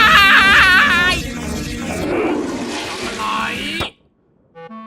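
A loud, rushing toilet flush in a Minecraft-style Skibidi Toilet cartoon, mixed with high wailing, crying-like cartoon voices, cutting off abruptly near the end before a faint tonal sound.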